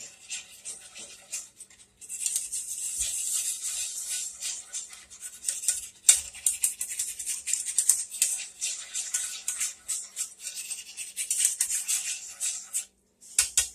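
A whisk scrapes browned bits from the bottom of a pan, a close, dry, irregular rasping that comes in uneven strokes, mostly quiet with sharper scrapes scattered throughout.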